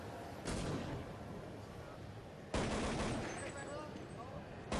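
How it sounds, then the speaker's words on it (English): Counter-Strike 1.6 gunfire in a professional esports match, rapid bursts of shots in two dense clusters against constant crowd and game noise. "Sykes gets himself the M4 frag, and Emelik will go down as well"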